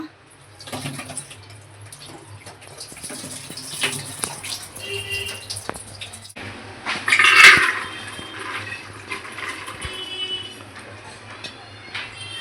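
Water drains from a pot of soaked cowpeas in a home kitchen: a steady splashing trickle runs throughout, with a louder gushing surge near the middle and light clatter of the vessel, close by and with no speech.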